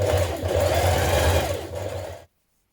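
Sewing machine top stitching around a coat collar: a steady, close, whirring mechanical run that stops abruptly, leaving silence, with no talking.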